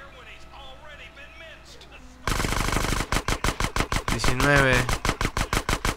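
Micro SMG fire in the GTA San Andreas Ammu-Nation shooting challenge: after a quiet start, loud rapid bursts of automatic video game gunfire repeat in a steady rhythm while someone talks over them.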